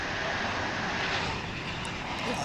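MD-11 jet taking off from DFW International Airport, a broad, loud roar of engines that holds steady, heard at a distance without speech.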